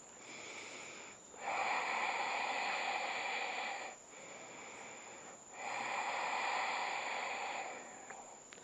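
Slow deliberate breathing during a standing hip stretch, close and airy, with long drawn inhales and exhales alternating in a steady rhythm over a faint high hum.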